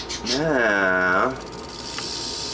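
A Western Diamondback rattlesnake rattles, a dry, steady hissing buzz that runs through the whole stretch, with a brief voice-like tone sweeping over it early on.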